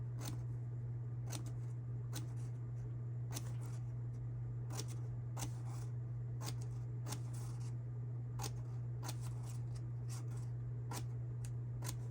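Scissors snip paper while a handmade book's pages are measured, marked, cut and folded, giving a steady series of crisp, close cuts at irregular intervals over a constant low hum, with no talking.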